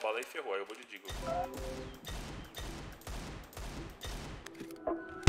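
Video game gunfire at a shooting practice range; a rapid regular series of about eight loud close shots in bursts, preceded by a short voice-like sound at the start.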